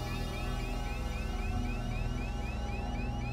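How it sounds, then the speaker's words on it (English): An aircraft cockpit cabin altitude warning alarm on an airliner losing pressure, a steady repeating electronic tone pattern sounding continuously over a constant background hum, no voices. "That's the cabin altitude warning."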